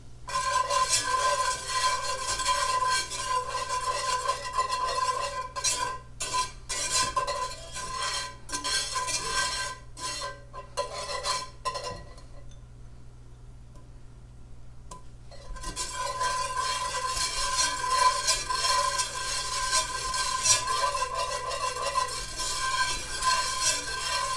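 Butter melting into a hot cast iron pan with oregano for roasted pork tenderloin gives a steady, dense sizzle that briefly dies down mid-way, then returns loud and continuous.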